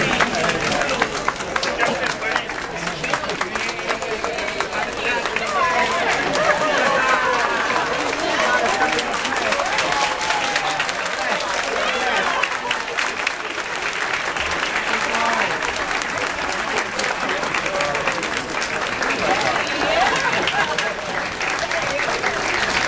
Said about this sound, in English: Now I know that applause is not for me.